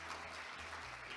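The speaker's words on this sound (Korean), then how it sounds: "큰 박수 부탁드리겠습니다." Applause from a forum audience at a Korean satellite and space industry session, a dense continuous clapping that fills the whole moment, with no voices over it.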